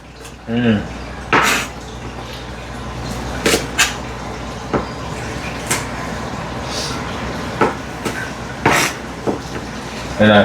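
Irregular knocks and clatters of kitchenware, a few sharp impacts spaced apart like slow chopping on a board, with brief voices in between.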